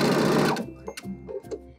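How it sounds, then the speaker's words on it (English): A sewing machine set to zigzag with backstitch runs fast for about half a second while sewing along a sweater neckline, then stops, followed by a few softer mechanical clicks and thumps. "Make sure you have your machine set to your zigzag stitch and back stitch, and let's follow our neckline."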